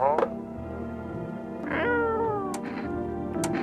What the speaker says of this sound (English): You reach out and pet the cat.